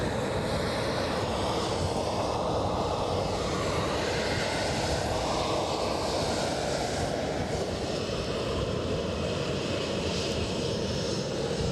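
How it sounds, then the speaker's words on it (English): An Embraer jet departing Edinburgh for London City gives a continuous broadband engine roar that stays strong and steady throughout, with a slow shifting swell like a passing aircraft. "So this Embraer on its way to London City."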